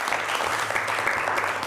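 Short burst of audience applause during a salsa-themed talk show segment, moderately loud clapping with a faint low hum running underneath.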